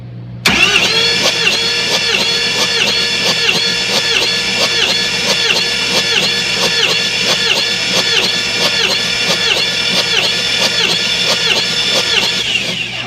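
A car engine cranks steadily with the starter during a dry compression test on cylinder seven, a loud, even, rhythmic chugging that runs without pause for about twelve seconds, with no talk.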